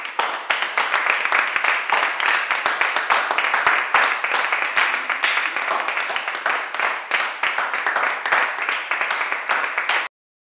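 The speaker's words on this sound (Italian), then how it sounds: "Signori, un applauso per questo paladino della nuova imprenditoria." A room full of people claps steadily and densely for about ten seconds, then the applause cuts off abruptly.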